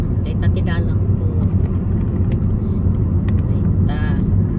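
A car drives through city road traffic with a constant low engine and road rumble throughout, while someone talks continuously over the steady drone.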